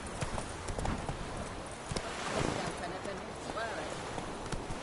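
Galloping hooves of Roach, the horse in The Witcher 3: Wild Hunt, beat a steady rhythmic clip-clop at close range, with game ambience and occasional speech mixed over the run.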